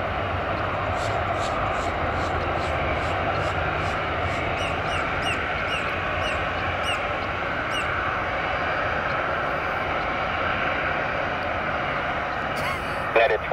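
Jet airliner roaring down the runway on takeoff at Tampa International Airport, a steady loud broadband engine rumble holding throughout, with faint bird chirps overhead.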